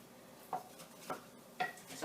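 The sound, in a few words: stirring beef stew in a pot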